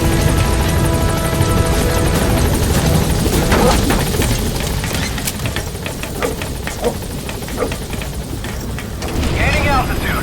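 The P-Quad helicopter in the video game Metal Gear Solid V, its rotor and engine drone running loud and steady beneath game effects and a speaking voice.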